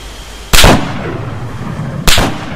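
Two sharp gunshots in ArmA 3, roughly a second and a half apart, each a loud broadband crack with a short rumbling tail over steady low background noise.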